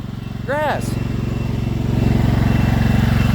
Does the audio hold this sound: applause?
no